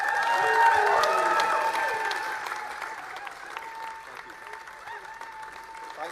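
A victory speech gives way to loud, sustained applause and cheering from a packed crowd, a dense roar of clapping that slowly eases, with a voice carrying over it.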